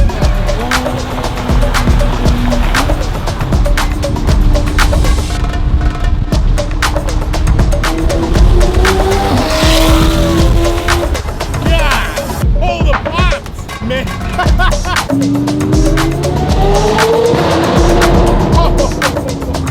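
A McLaren Senna hypercar drives through city streets, its engine droning and rising through gears over constant road and wind noise. Loud and close, with occasional talk inside the car.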